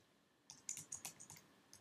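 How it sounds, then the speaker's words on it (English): Quiet, close keystrokes on a computer keyboard as a ship name is typed: a short burst of about eight crisp clicks after a brief silence, then one last tap. "But I'm just gonna type in the name."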